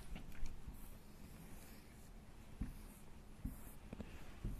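Faint scratchy strokes of a pen drawing magnetic field lines around a magnet on paper, several short marks with brief pauses between them, close and quiet over low background noise.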